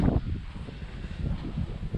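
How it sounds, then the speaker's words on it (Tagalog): Strong gusts buffet the microphone outdoors during a DJI Mini 3 drone flight, a steady low rumbling roar with fluctuating surges and no voices. "Lakas talaga ng hangin."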